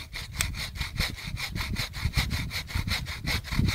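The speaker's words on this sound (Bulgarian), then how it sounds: "При рязането не използвам никакъв натиск, само възвратно-постъпателни движения." A folding saw cutting through wood with steady back-and-forth strokes and no added pressure, a close, rhythmic rasping that repeats evenly about three times a second throughout.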